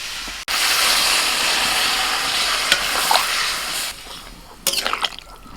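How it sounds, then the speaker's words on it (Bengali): Water poured over pav bhaji vegetables frying in a pan sets off a loud, steady close sizzle that swells right after a sharp start, ending with a few clattering knocks of a spoon. "সমস্ত সবজিগুলো পাঁচ থেকে সাত মিনিট ভেজে নিয়ে এবার আমি জল দিয়ে দিচ্ছি"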